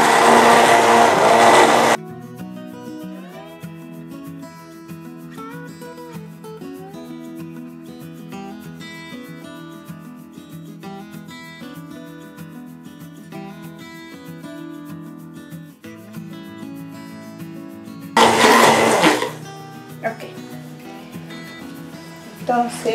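A blender whirs loudly while mixing a calming facial mask gel, two short intense bursts, one at the start and another near the end, with soft background music filling the stretch between.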